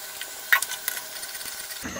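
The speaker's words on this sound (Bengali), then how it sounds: "এর মধ্যে আমি কালি জিরাটা দিয়ে একটু ফোড়ন দিয়ে দিব।" Nigella seeds tempering in a teaspoon or so of hot oil for a hilsa-in-yogurt dish give a low, steady sizzle with a sharper crackle early on, and no one speaks.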